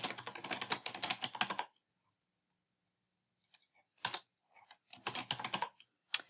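Rapid keystrokes clatter on a computer keyboard while an application form is filled in, two bursts of quick clicking separated by a quiet pause, close and crisp.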